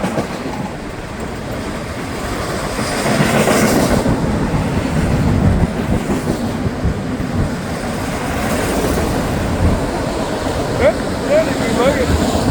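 A long northbound FEC freight train rolls past close by with auto racks at the rear, its steady rumble and rhythmic clickety-clack of wheels on rail joints filling the whole stretch, growing louder midway.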